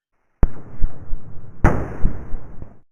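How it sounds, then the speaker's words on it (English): Two sharp underwater SUS signal explosions, man-made charges in the deep sea, crack out a little over a second apart, each with a loud onset followed by a rumbling, decaying tail. "So that one is called an SUS explosion."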